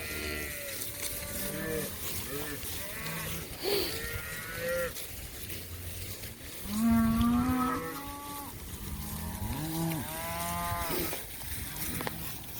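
A herd of beef cows with young calves bawls loudly, one long moo after another in overlapping calls, close and distant, with no talking.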